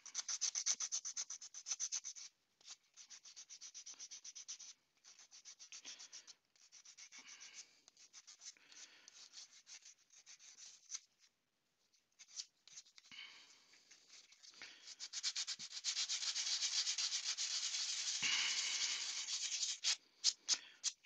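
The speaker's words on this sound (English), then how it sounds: "And a wee bit of sandpaper will sort that out." Sandpaper rubbed by hand against a small turned wooden tree, a close, steady hiss of back-and-forth strokes running in long stretches with brief pauses, louder and denser toward the end, with no talk.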